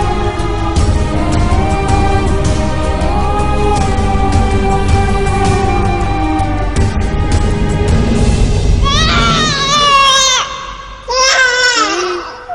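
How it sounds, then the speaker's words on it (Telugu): Loud wailing cry in a dramatic film scene, sustained sobbing over heavy rumbling background that drops away near the end, leaving high, wavering crying bursts alone. "అక్కడ ఎవరు ఏడుస్తున్నారా?"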